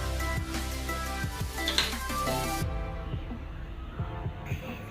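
Chopped onion tadka for saag sizzles in hot oil in a home kitchen in Delhi, a steady close frying hiss with a faint hum and occasional soft knocks, no voices.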